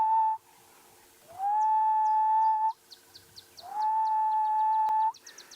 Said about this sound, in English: The gentle call of the ghost bird or grey-headed bushshrike.